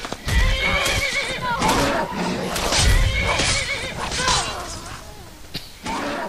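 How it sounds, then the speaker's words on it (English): A horse in the Skyrim video game lets out loud, repeated whinnies and snorts mixed with hoof clatter, filling the clip up close with a brief pause near the end. "Such an annoying horse."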